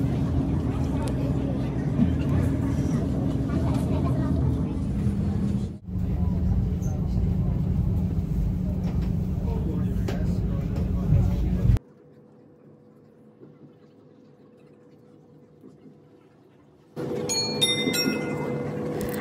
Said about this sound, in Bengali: ট্রেনটি অদ্ভুতভাবে পাহাড়ের ঢাল বরাবর হেলে রয়েছে